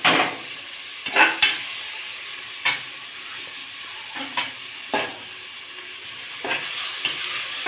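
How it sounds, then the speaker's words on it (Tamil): Onions sautéing in a pan for a homemade kuska (biryani-style rice), a steady sizzle broken by several sharp stirring scrapes spread across the stretch, close and fairly loud with no voices. "வெங்காயம் நல்லா வணங்கணும்."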